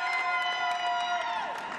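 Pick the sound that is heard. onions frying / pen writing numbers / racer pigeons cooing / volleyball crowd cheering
volleyball crowd cheering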